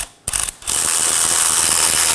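A ratchet with a 21mm socket clicks rapidly and loudly while tightening wheel hub bolts on a 2018-2024 Chevrolet Equinox, starting with a short burst, then running in a continuous close-up ratcheting whir.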